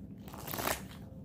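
A short, soft burst of tarot cards shuffling, papery riffling that swells briefly and then settles, quiet and near.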